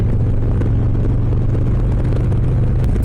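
A 2023 Harley-Davidson Low Rider S cruising a Washington highway in fifth gear under 3,000 RPM at about 62 mph, a steady loud low engine rumble mixed with wind noise, no talking.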